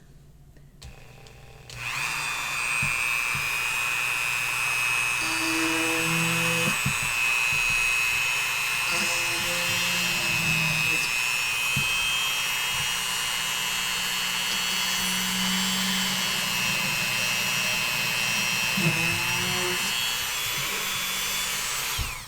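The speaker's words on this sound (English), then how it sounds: "I'm going to drill now" An electric drill set to low speed bores a hole through a soft stone to make a pendant. A steady, high whine starts abruptly and runs continuously for about twenty seconds, with faint grinding underneath.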